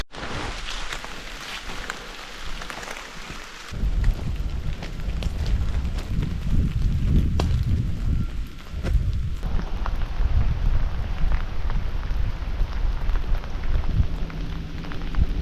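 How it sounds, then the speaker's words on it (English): Rain falls steadily on a foggy morning along a hiking trail on the Appalachian Trail, a continuous close patter of drops on leaves and ground that thickens after the first few seconds and carries on without talk. "Sounds of nature and the dripping rain, absolutely beautiful."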